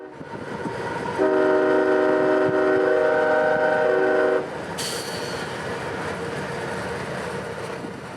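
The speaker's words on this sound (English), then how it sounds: "Hall Station Road would bring us side by side to train E319, an empty shipment out of the plant at Cross" A CSX freight train, an empty shipment, rolling past near a road crossing, with a steady rumble of cars and a loud multi-tone horn blast held for about three seconds, then a brief high squeal over the continuing wheel noise.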